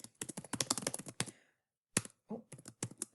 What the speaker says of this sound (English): So I could just go in and start typing directly into the page.